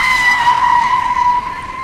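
An animated jeep brakes suddenly, its tires skidding in one loud, sustained squeal that holds steady close up and then eases slightly at the end.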